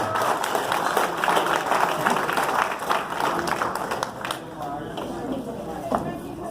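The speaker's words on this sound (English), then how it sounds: "let's give him a round of applause" A theatre audience at a 40th anniversary Zoot Suit event applauds a cast member, sustained clapping at moderate distance that fades gradually, with someone talking over it and cheers mixed in.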